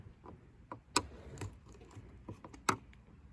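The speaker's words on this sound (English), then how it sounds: "It's just 2 Phillips head screws again, so I'm just going to take both these off." Small metallic clicks and scrapes from a screwdriver backing out two Phillips head screws holding the third brake light on a Ford Ranger, with a few sharper ticks over quiet handling noise.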